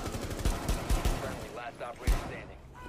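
Shotgun blasts in the Rainbow Six Siege video game: six sharp, booming shots in an uneven volley, loud and close, with a voice talking briefly between them.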